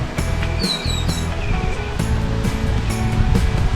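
Steady surf and breaking waves wash continuously on a beach in Cuba, a full, close wash of water noise with some wind across the whole stretch.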